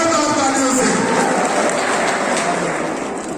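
Loud, dense applause and cheering from an audience at an awards function, a steady wash of clapping and shouts sustained throughout without pause.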